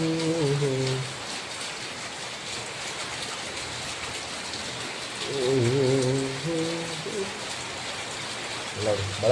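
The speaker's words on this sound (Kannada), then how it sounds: "ಮಳೆ ಜೋರಾಗಿದೆ." Heavy rain pours down steadily in a continuous dense hiss at home, while people talk intermittently over it.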